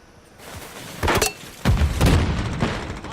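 Heavy blasts of grenade explosions in a military shooter game, a sharp boom followed by a louder, longer rumbling burst with crackling debris, close and loud.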